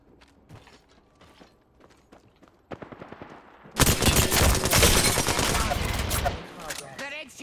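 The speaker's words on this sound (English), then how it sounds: "Getting shot at." Bursts of video game gunfire in an Apex Legends-style battle royale match, sparse shots at first, then a loud, dense volley of automatic fire with clanking mechanisms from about the four-second mark onward.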